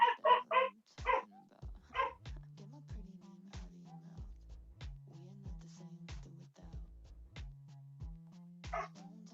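A dog barks in quick bursts indoors, several sharp yaps at the start followed by scattered barks and whimpers over a steady low hum, fairly close and with no talking.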